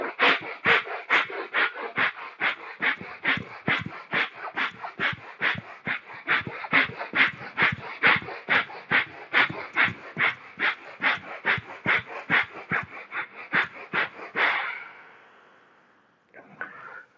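Bhastrika pranayama yoga breathing, a long run of rapid forceful rhythmic breaths, about two per second, close and loud, then a slower exhale and a pause at the end.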